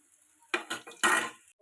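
Onion vada made from wheat flour fry over a medium flame while a utensil stirs them in the pan, giving a few short scraping and clattering strokes over a faint sizzle, close by, with no talking.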